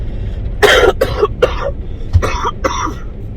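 A fit of loud, close coughing: a run of four quick hacking coughs, a short pause, then two or three more.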